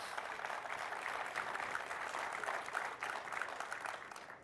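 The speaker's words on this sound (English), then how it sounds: "I know it's hard to clap with the headphones on." A conference audience at a SharePoint and Copilot tech session claps in a steady burst of applause that holds for several seconds with no talking over it.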